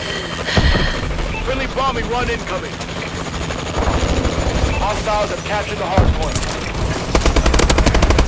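A Warbird helicopter gunship in Call of Duty: Advanced Warfare, with a loud rotor drone under bursts of machine-gun fire and scattered gunshots, mixed with game voice chatter.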